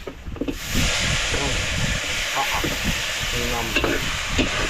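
Milkfish goes into a pan of sautéed aromatics and hisses with a loud, steady sizzle and steam. Some stirring is heard, and a voice speaks briefly over it.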